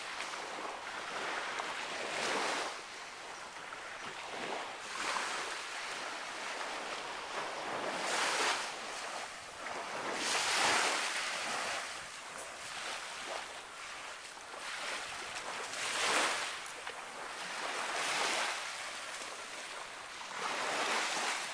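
Surf washing in at Fort Trumbull Beach in Milford, with broad swelling rushes of water rising and falling every few seconds, fairly close and steady, mixed with some wind.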